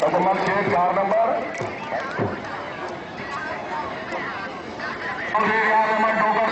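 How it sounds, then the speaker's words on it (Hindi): A horse gallops during a neza bazi tent pegging contest in Mandi Bahauddin, steady hoofbeats under a crowd's babble and a loud announcer calling over a public address system. "घोड़ा अनोखा जिंदाबाद"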